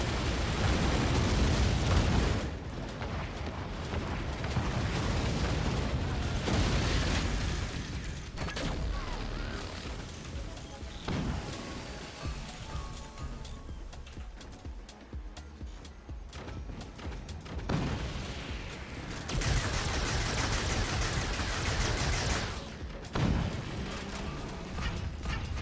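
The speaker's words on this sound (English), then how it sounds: "I'm not sure where these mortars are going, actually." Mortar volleys and heavy explosions from a game of Forts, a physics-based RTS, boom and rumble in dense overlapping bursts, loud and continuous with repeated thuds and crackling impacts throughout.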